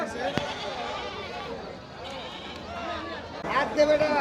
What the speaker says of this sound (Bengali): বিশাল বড় বড় সাইজের তোতাপুরি ছাগল কিন্তু চলে আসছে